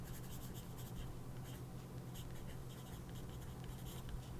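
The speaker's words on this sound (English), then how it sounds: "I guess I'll write the name of the pencil too." A pencil scratches across paper up close in short, rapid strokes and pauses, writing words over a faint constant hum.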